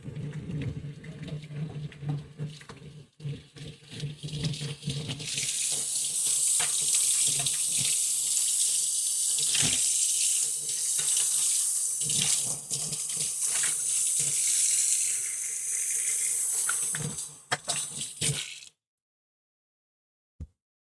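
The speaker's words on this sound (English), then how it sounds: "I gotta wash my hands." Hands being washed under a running tap, with a steady stream of water splashing into a sink for over ten seconds, plus scattered rubbing and handling noises, then the water shuts off and quiet follows.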